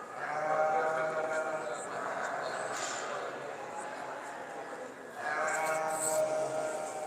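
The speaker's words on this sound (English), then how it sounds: "So there we are, there's our 6 sheep forward." Valais Blacknose sheep bleat loudly in a show ring, two long drawn-out calls close by, with an announcer's voice over the public address between them.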